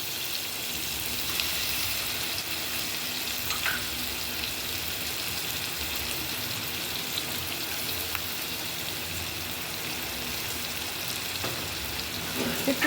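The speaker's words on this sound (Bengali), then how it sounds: "এখন লঙ্কা বাটাটাও দেবো, তেলটাতে লঙ্কা বাটাটা একটু ভাজা হোক।" Chilli paste fries in hot oil, giving a steady, dense sizzling hiss that holds evenly throughout with no speech over it.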